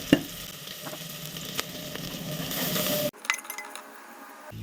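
Coriander and turmeric fry in a pan for a spicy eggplant and chickpea curry, giving a soft steady sizzle with a few clinks from a utensil, then a brief clatter as the frying quiets.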